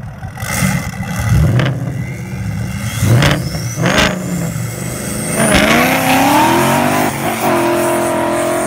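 A cheap $200 modified car built as a 12-second drag racer roars loudly while racing a Mustang, its engine revving hard through several rising gear pulls with sharp shifts in between.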